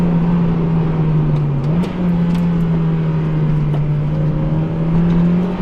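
A modified Mazda MX-5 roadster on the move, its engine giving a steady, loud droning hum that dips briefly and climbs again as the revs shift, with continuous road and wind noise underneath.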